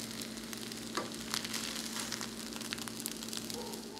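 Egg fried rice with frozen green peas frying in a pan, giving a steady, close sizzle with a few soft stirring scrapes and no talk.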